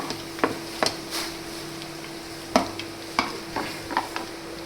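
Curry leaves hitting hot oil for a homemade poha khaman dhokla, giving a soft steady sizzle broken by several sharp crackles and spatters spread across the moment, with no talking.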